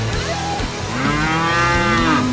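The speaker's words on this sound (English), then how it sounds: "Come on, cows." A cow moos loudly and close by, a long low bellow that rises into a drawn-out call, with no talking.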